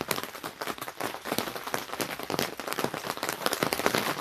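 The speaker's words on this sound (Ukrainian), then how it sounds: "Було трішки вияснилося і знов зливок." Heavy rain patters loudly and steadily on a nearby greenhouse, with dense irregular drops and no voices.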